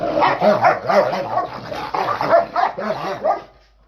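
Several dogs at an animal sanctuary bark and yip at each other in rapid overlapping bursts, loud and close, with a whimpering, wavering tone running through, before fading out at the end.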